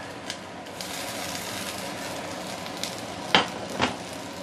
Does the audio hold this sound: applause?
no